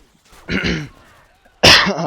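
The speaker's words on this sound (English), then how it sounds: "I had to clear my throat" Two throat-clearing bursts from a nearby person, the first longer and rasping, the second sharp and loud after a short pause.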